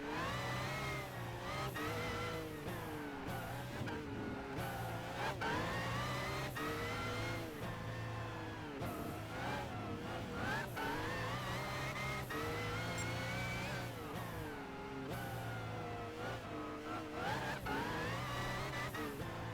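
Race car engine from Gran Turismo 5 roaring continuously and loudly, pitch rising and falling with repeated gear shifts and revving throughout, no talk.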